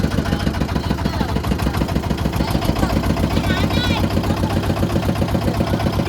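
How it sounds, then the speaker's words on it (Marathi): A boat engine runs steadily just after starting on a river outing near Honnavar, a loud, close, rhythmic mid-pitched chug that continues throughout, with people's voices heard over it. "आपलं इंजिन स्टार्ट झालंय."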